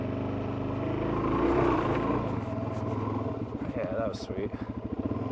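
A motorcycle rides on mountain roads, its engine droning and revving steadily up close, with wind rumble and a person talking over it.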